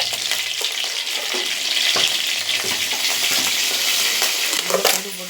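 Mustard, fennel and cumin seeds spit and sizzle in hot oil, a continuous bright crackle punctuated by a few sharp pops and the scrape of stirring.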